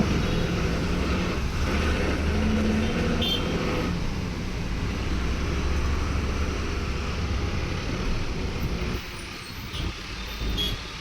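BMTC city bus 25E rides through midday Bangalore traffic from Majestic toward the Passport Office, a loud continuous engine drone with road noise, passing vehicles and a brief hiss of air brakes.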